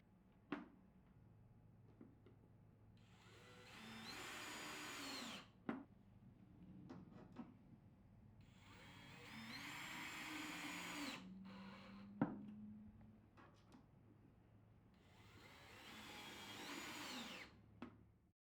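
Power drill driving Robertson screws into wooden bed frame stiffeners: three rising whirring bursts of a few seconds each, separated by quieter gaps with sharp knocks and clicks, close but fairly soft.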